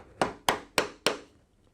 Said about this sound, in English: when you're cutting your mortise, you want to start off in the middle and do small taps to begin with.